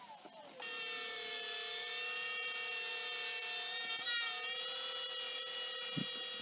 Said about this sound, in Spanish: Hago mi corte en varias pasadas para no se afila tanto el disco, para no exigirlo tanto la sierra.